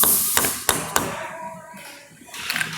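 A soft jaw is tapped into a machine vise in a workshop, giving three sharp, close knocks in the first second followed by quieter shuffling handling noise.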